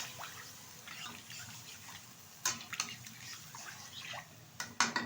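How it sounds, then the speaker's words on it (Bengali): A bowl of water goes into a pan of Bengali aloo posto, poppy seed curry with potatoes, giving a soft splashing pour with a few sharp clinks of utensils, close and moderately loud. "এখন দিয়ে দেবো এর মধ্যে যে পোস্তটা আমি বেটে রেখেছিলাম তার ধোয়া এক বাটি জল দিয়ে দিলাম"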